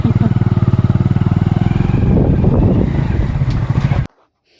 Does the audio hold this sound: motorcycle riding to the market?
yes